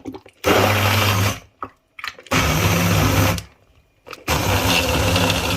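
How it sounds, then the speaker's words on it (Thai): Electric blender grinding boiled chili and herb curry paste for Thai khanom jeen nam ya, running in three loud bursts of steady whirring motor noise separated by short pauses. "เราจะใช้เครื่องปั่นแบบนี้นะคะ"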